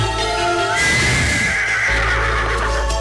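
A horse, the mythical Sembrani steed, lets out a loud, close whinny that rises and trails off, over a low steady rumble.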